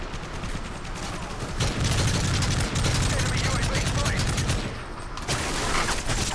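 Rapid bursts of gunfire from an automatic weapon in a Modern Warfare 3 online match, sustained and loud with brief pauses between volleys, mixed with game effects and some talk.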